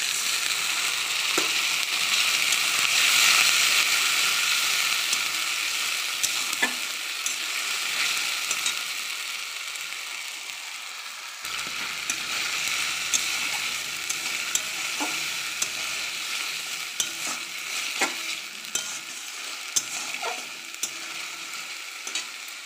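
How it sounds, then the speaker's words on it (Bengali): Spice masala for a potato and chicken curry sizzles in a pan while a spoon stirs it, giving a soft continuous frying hiss broken by repeated scraping knocks at an unhurried pace. "এবার মশলাটা কষাবো।"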